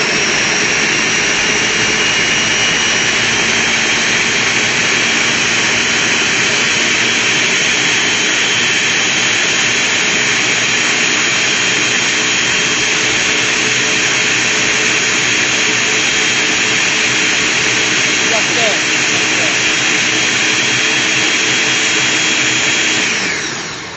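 Ninja Professional blender whirring loud and close as it mixes a smoothie, a sustained high-pitched motor roar that holds nearly steady for over twenty seconds before cutting off at the very end.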